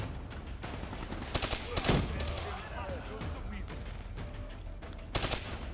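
Bursts of gunfire in the Black Ops 3 campaign while shooting through light cover, several sharp volleys at the start, around the two-second mark and again near the end, over a continuous bed of battle noise.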